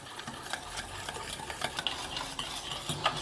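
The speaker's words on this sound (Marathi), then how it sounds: "2 मिनिटं तरी ह्याला चांगले फेटून घ्या।" Rapid, steady whisking beats eggless cupcake batter in a bowl, a close and fairly soft rhythmic swishing with small ticks that carries on without any voices.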